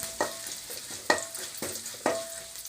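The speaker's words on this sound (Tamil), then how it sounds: "பூண்டு, வரமிளகா, கருவேப்பிலை எல்லாத்தையும் ஒன்றா போட்டு தாளிச்சிடுங்க. நல்லா வதக்கி விட்டுக்காங்க." Garlic, dried red chilies and curry leaves tempering in a frying pan, with a sizzling fry base broken by three sharp scraping stirs spaced about a second apart.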